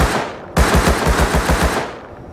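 Automatic gunfire in the video game Rust: a rapid burst of loud, evenly spaced shots lasting over a second, close and alone with no talk.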